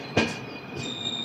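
A train stands at platform 4 of Lingampally railway station, giving off a brief loud burst of rail noise and then a steady mechanical hum with a high whine.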